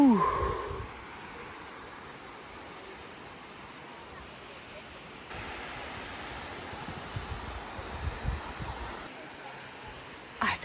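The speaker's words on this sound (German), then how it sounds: "Oh, ich höre schon Wasser plätschern." A stream rushes through the Cavagrande del Cassibile canyon in Sicily as a steady distant broadband wash of water, faint and continuous, with a few light knocks and rustles near the start and end.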